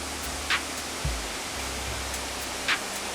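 Dalasari waterfall pours in a steady, dense roar of rushing water that fills the scene, loud and continuous, with a few faint brief knocks over it and no talk.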